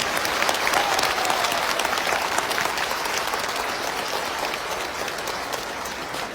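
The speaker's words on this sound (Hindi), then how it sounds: "एक बार सबसे बड़ी ताली अपनी मां शक्ति की दी।" A large audience claps steadily, a dense wash of applause that fades slightly toward the end, with no voices standing out.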